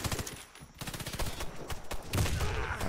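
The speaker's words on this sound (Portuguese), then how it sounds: "explodiu minha mina" Rapid gunfire and a land mine blast crackle densely in a Warface online shooter match, loud, continuous bursts filling the moment.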